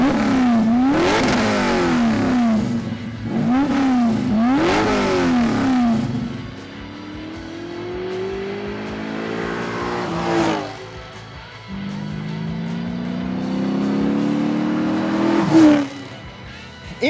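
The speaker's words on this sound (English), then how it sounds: "this thing sounds rowdy as well. Thanks to a custom 3-inch exhaust and Pipes Racing Pro mufflers" A 1974 Chevy Camaro with a custom 3-inch exhaust and Pipes Racing Pro mufflers revs loudly and near, first in several sharp rising blips, then longer pulls that climb and fall off, with a rumbling idle between them.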